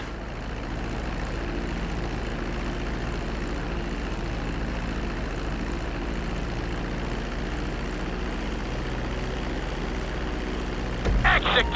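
An airplane in the video game GTA 5 rolls down the runway after landing, with a steady loud engine drone throughout and a short clattering burst near the end.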